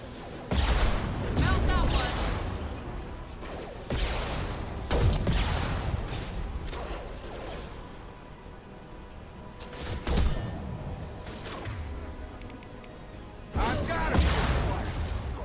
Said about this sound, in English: I got hit by a missile.